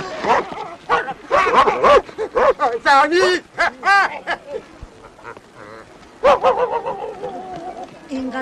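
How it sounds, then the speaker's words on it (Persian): A dog barks in a series of sharp, close yaps and whimpers in bursts, mixed with people talking. "اینقدر سر به سر اون سگه نزار میگیرت"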